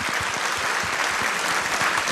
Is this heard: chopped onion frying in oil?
no